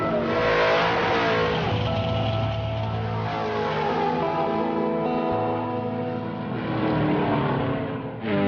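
A race car at a drag strip accelerates with a loud, sustained engine roar that climbs through its gears and holds steady, then drops briefly near the end. Close and strong, with no talking.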